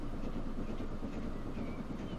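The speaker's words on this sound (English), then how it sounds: "Iron ore train, London North Western Railway heading out as well." Trains rumble by in the game Transport Fever 2, among them an iron ore freight train of the London North Western Railway, giving a faint, steady low rolling drone with soft clatter and no voices.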